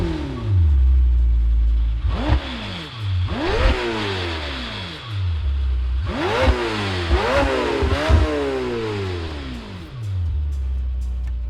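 Lamborghini Temerario twin-turbo plug-in hybrid V8 revved repeatedly while stationary, several rising and falling engine sweeps from a low idle, loud and close with no talking.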